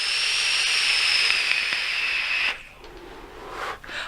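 A Footoon Aqua Master RTA vape tank gives a steady close airy hiss for about two and a half seconds, then stops abruptly, followed by quieter breathy exhaling sounds.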